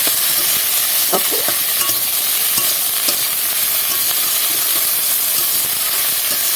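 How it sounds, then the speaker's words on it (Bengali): Arum (ol) stalks fry in a pan while being stirred, giving a loud continuous sizzle and steamy hiss with occasional scraping clicks of the spatula, no voices. "কেটে রাখা ওলের ডাটাগুলো নামিয়ে এটাকে নেড়ে নিতে হবে"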